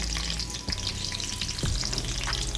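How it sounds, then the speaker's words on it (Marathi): Green chillies and garlic fry in a pan with a steady, close sizzle, broken by a couple of stirring knocks, while no one speaks. "मिरची आणि लसूण छान भाजला की आपण आता त्यात मेथीची भाजी घालून घेणार आहोत।"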